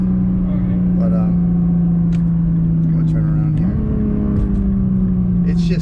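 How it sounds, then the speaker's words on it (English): A Nissan GT-R engine drones loudly from inside the cabin during a noisy, bumpy ride, its pitch holding steady and then stepping up partway through, with people talking over it. "It just sounds like it's falling apart as you drive it."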